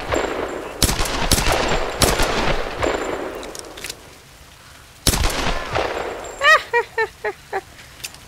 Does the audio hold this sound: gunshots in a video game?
yes